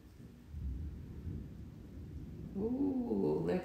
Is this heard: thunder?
yes